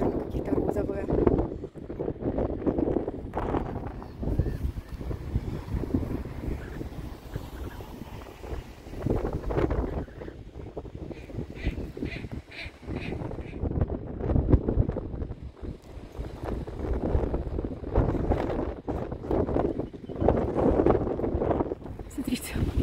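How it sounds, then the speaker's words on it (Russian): Strong wind buffets the microphone outdoors in the Netherlands, a heavy, continuous roaring rumble with gusts that rise and fall throughout, with people speaking over it. "Смотрите, какой ветер."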